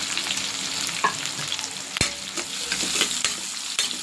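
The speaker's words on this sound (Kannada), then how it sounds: "ಈರುಳ್ಳಿ ಇಷ್ಟು ಫ್ರೈ ಆದ ಸಾಕು" Onions frying for chicken fried rice, a continuous close sizzle with repeated spatula scrapes and taps against the pan, no voices.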